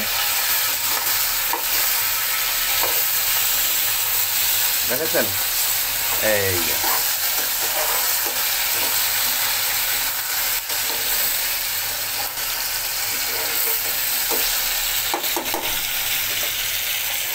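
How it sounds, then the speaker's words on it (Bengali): Steady loud sizzling of a katla fish head frying in oil in a pan, continuous crackle and hiss throughout with a few brief spoken words over it. "এবার দেখে নেওয়া যাক মাছের মাথাটা কেমন ভাজি হয়েছে"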